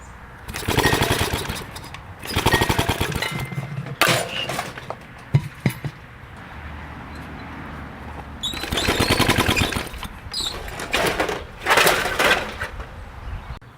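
An old 1 hp Briggs and Stratton barn engine with a substituted carburetor, cranked without fuel: several bursts of rapid, rattling pull-start turnover separated by quieter pauses, close and fairly loud, with clanking between attempts.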